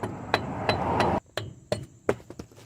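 A Ford E350 van's front wheel hub cap is tapped off with a hammer in a garage: a series of about eight sharp, ringing metallic strikes, some spaced apart and some in quick pairs.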